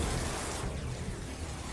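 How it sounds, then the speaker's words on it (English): Special-effect rain in the Second Life video game makes a steady, faint hiss of falling drops with a soft low rumble beneath, continuous with no voices. "Special effect rain"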